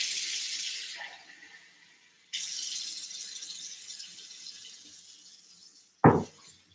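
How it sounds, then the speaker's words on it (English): Tap water running from a kitchen faucet, a steady hiss that stops, restarts and flows on before a short clatter near the end, with no talk. "I drink tap water."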